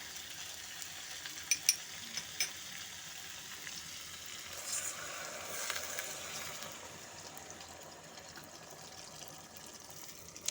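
A curd and eggplant curry simmers gently in a pan on low-medium heat, giving a faint, steady bubbling sizzle with a few soft clinks and stirs near the start.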